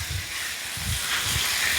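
Vegetables and potatoes sizzle steadily in a hot pan as they are sautéed, a close, even hiss with faint low bumps from stirring.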